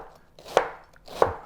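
Two crisp knife strokes slice through a head of cabbage on a cutting board for coleslaw, each a sharp, close crunch with a hard thunk against the board, about half a second apart.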